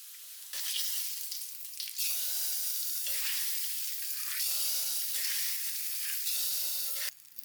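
Mustard seeds and curry leaves sizzle hard in hot coconut oil, a tempering for a cucumber masala curry. The frying hiss is dense and continuous, crackling steadily with no voices.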